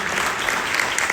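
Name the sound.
church congregation clapping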